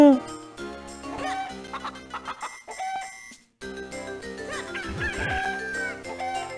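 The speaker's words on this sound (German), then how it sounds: "Goldenes Huhn, komm her." A golden chicken crows in Zelda: The Minish Cap, a bright game cock-a-doodle-doo heard over looping game music with chiptune melody and effects, the crow loud and near.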